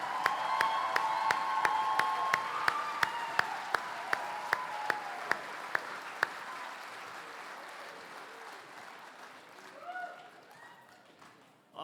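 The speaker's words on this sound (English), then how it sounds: "Give them a big round of applause." An audience at a 40th anniversary kapa haka and music show breaks into applause, loud at first, then slowly thinning out, with some sharp individual claps and a few voices near the end.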